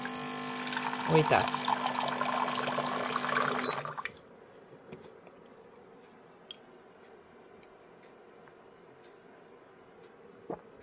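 Water pours from a jug-fed drinking water dispenser, a brief trickling rush for a few seconds before stopping abruptly. Near-silence follows, with faint ticks and a single short word spoken.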